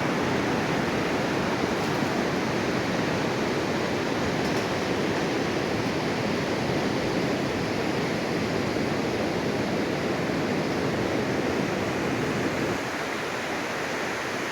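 The Colorado River rushes through the Grand Canyon below a bridge, a steady, dense roar of flowing water that stays loud and unbroken throughout, with no voices.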